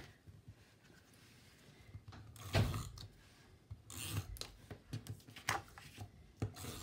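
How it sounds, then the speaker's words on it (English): Adhesive tape pulled and pressed onto a cardstock panel for a handmade pop-up card, heard as a few quiet, close rasping pulls and rubs with soft handling noises in between. "So I'm just gonna add some tape to it."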